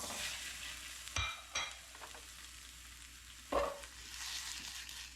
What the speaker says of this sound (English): heat your sausage up